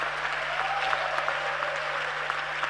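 A youth audience at a Ghana dialogue session claps in a sustained, moderately loud burst with a few sharper claps and light crowd murmur over a low steady hum.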